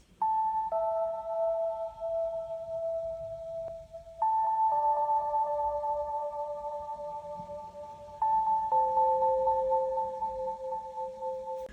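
Lofi piano in Logic Pro X with an echo delay effect plays slow sustained notes that change every few seconds, clear and moderately loud, with no voices.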